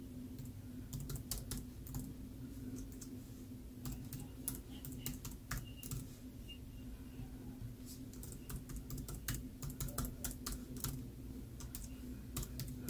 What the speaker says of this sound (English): Me just sitting here typing stuff.